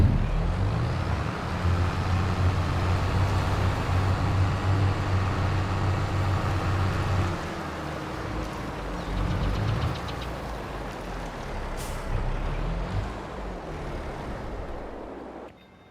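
A Massey tractor engine in Farming Simulator 22 runs with a low, rumbling idle and steady throb, loud at first, then easing to a slightly quieter running level before dropping off at the end.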